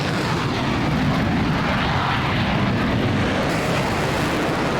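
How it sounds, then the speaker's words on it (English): Twin RD-33 jet engines of a MiG-29 in the DCS combat flight simulator give a loud, steady roaring rumble that holds constant throughout, with no voices over it. "Listen to those RD-33 engines."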